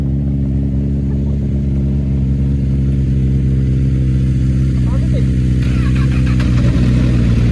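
A car engine tuned in Japanese racing style, running as a loud, deep, continuous idle rumble up close with a slight rise in revs toward the end.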